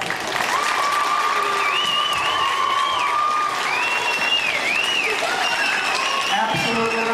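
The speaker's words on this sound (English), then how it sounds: "I want all the kids out here to applaud all the parents out here" Kids applauding their parents at a school jazz and symphonic band concert, a full continuous round of clapping with cheers and whistles rising over it, staying loud throughout.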